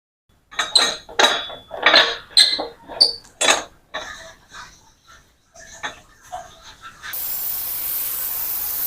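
Singed chicken meat for pinikpikan is dropped into a metal pressure cooker pot, a run of close clanks, clinks and rustling knocks, followed by a steady hiss.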